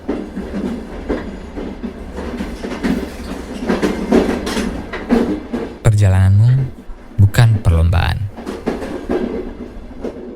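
A night train rumbles along the rails with rhythmic clacking and a loud passing rush, while a person speaks over the steady rolling noise.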